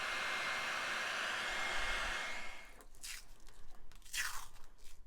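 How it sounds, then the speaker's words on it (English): Heat gun blowing a steady roaring stream of hot air to shrink heat shrink tubing over wire connections on a radio harness for a Toyota FJ Cruiser, then cutting off and leaving faint scraping, crinkling handling sounds. "We're going to go ahead and move the heat shrink up and over our connections and get those shrunk down."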